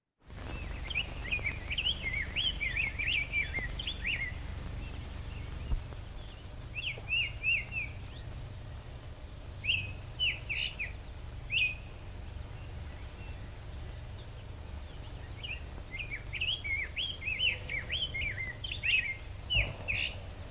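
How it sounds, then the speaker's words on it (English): Short bursts of high, twittering birdsong from a 1929 North American recording repeat at intervals over a steady low hiss and hum, thin and distant like an old recording. "We are listening to a bird singing from 1929."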